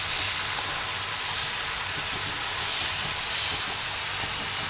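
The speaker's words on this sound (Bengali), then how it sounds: "তো এই তো আমি আস্তে করে নেড়ে দিচ্ছি" Broccoli and mixed vegetables are stirred slowly in a hot pan for a stir fry, giving a steady, continuous hiss of sizzling oil that stays even and fairly loud throughout.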